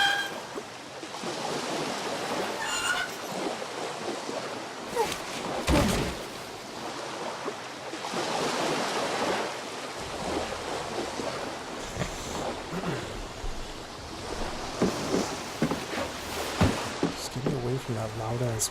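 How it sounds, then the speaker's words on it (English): Loud rushing water in the Sherlock Holmes: The Devil's Daughter video game: a steady, dense wash of flowing water fills the whole stretch, with a few brief bumps and knocks along the way. "That loud ass water"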